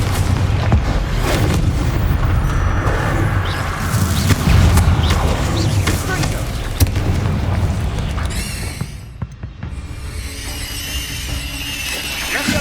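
Fire-spell explosions from Hogwarts Legacy: a series of loud booming blasts and crackling bursts, dense and close, with brief quieter gaps and some game clatter between impacts.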